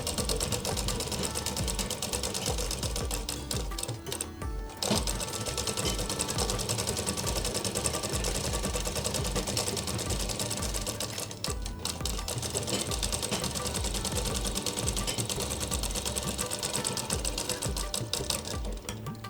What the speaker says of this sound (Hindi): फिर वो सारे हिस्सों को हम एक चाँप सिलाई से सिलाई कर लेंगे।